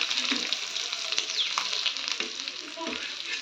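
Food frying in a home kitchen pan, with egg, tomato, garlic, chilli and onion, gives a steady, close crackling sizzle throughout, with a few faint clinks and no talking.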